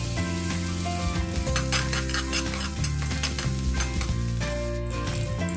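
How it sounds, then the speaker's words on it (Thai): Loud, steady sizzling and crackling of fat frying in a hot pan, with occasional sharp pops, continuous throughout. "กระทะร้อนแล้วนะครับเอามันไก่ที่เลาะออกมาเมื่อกี้ลงไปเจียวให้แตกมันนะครับ"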